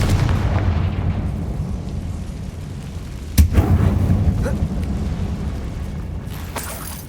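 A low rumbling blast from the Confringo spell in Hogwarts Legacy, set off inside a closed mine that looks like a tomb, with a sharp crack partway through and a sustained, heavy boom that lingers beneath the game's ambience.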